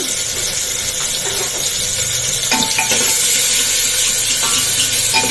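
Tomatoes and onions with turmeric and ginger-garlic paste simmer and sizzle in a pan, a loud steady hiss with occasional soft clinks of a spoon stirring.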